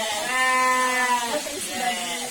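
Sheep on a farm bleat twice in quick succession, loud and near, with a steady noisy background.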